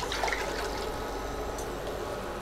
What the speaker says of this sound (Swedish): Under tiden sätter jag på då 5 deciliter kallt vatten.